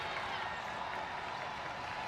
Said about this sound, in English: You hear the crowd now into it.